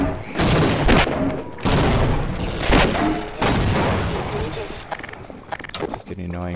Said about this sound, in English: Some more grenades at us